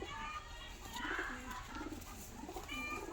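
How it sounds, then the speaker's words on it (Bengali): Pigeons coo softly in low, rolling repeated calls, close by, with faint background noise. "ধাড়ি পায়রা তো সব ক্যাচ করে আছে"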